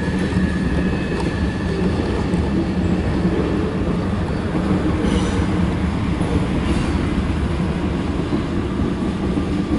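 A CSX mixed freight train with tank cars rolls past close by, a loud continuous rumble of wheels and rail with faint squeals and clatter throughout.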